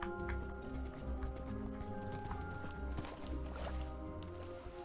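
Horse hooves clop along steadily with a soft, muffled rhythm amid dense background noise and faint bird calls, in the video game Sunless.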